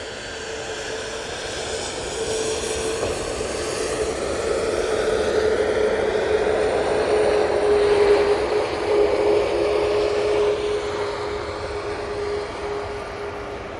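An arriving Ryanair jet lands at Manchester Airport, its engine roar swelling steadily to a peak and then easing, with a sustained whining tone running through it.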